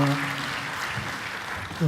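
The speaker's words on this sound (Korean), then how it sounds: "우리 다시 한번 큰 박수로 격려합시다" Church congregation clapping for a short moment during a worship service, a broad wash of applause with voices and tonal sound surfacing at the start and end.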